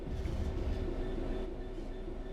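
A train in Train Sim World 4 rumbles and rolls as it brakes toward a stop, with a low steady drone, faint wheel squeal and rail noise carrying evenly and fairly quietly throughout, no voices.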